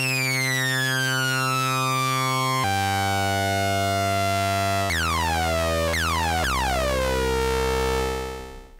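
A synthesizer with two detuned oscillators sustains bright buzzy tones that shift in pitch in several steps, with sweeping, beating overtones. The sound is loud and continuous and fades only at the end.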